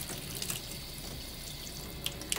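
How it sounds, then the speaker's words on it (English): Running water rinsing shampoo off a dog's coat down to the skin, a steady, soft splashing hiss with occasional drips and spatters, fairly faint and close. "you wanna make sure you're getting that water down to the skin to make sure that you get all of the shampoo rinsed off"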